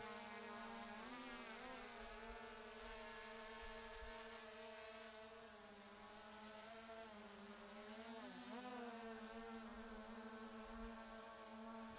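A toy drone's little engine buzzes in a point-and-click adventure game, a steady whining drone that holds level and wavers in pitch as it flies, then rises and falls briefly before settling again, with no voices over it.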